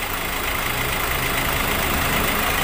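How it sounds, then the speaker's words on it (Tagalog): Hyundai Accent CRDI turbo diesel hatchback idling after a cold start, a loud, steady mechanical rumble and clatter holding an even level throughout, heard close with no talking. "kailangan i-start din natin, painitin natin yung makina"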